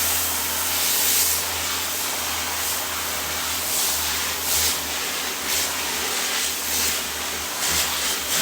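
Water sprayed to wash out a screen-printing screen during reclaiming, a loud continuous hissing rush with slight surges as the spray moves across the mesh, no talking.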